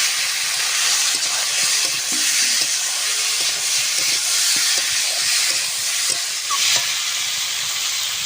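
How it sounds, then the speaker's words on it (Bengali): Fried potatoes and eggplant stirred into a spice masala in a hot pan, giving a steady, close sizzle with soft scraping knocks from the spoon throughout, no voices. "ভেজে রাখা আলু আর বেগুনটা দিয়ে দেব।"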